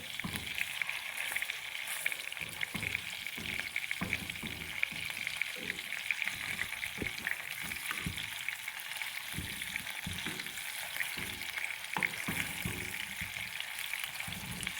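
Gola kababs fry slowly in oil over a low flame, giving a steady, even sizzle with light crackle and spatter throughout, close and continuous with no talking.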